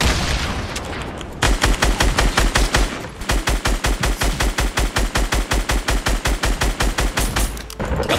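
Rapid automatic gunfire in the Fortnite video game, loud and close, in two long sustained bursts of evenly spaced shots with a brief pause between them and no voices.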